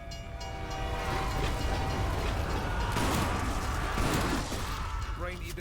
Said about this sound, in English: I hope you are smart enough to avoid being hit by a train